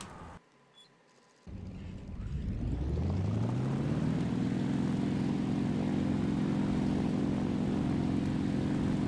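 Engine of an Fw 190 fighter in the War Thunder video game starting a test flight: a short pause, then a propeller engine roaring up in pitch and settling into a loud, steady drone.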